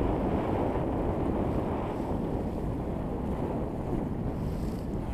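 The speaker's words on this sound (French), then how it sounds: "désolé pour le vent" Loud, constant wind buffets the microphone on a sailboat sailing solo on the Atlantic, a rough roaring rush with no voices.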